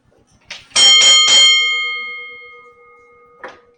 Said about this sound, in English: Bell has just rung.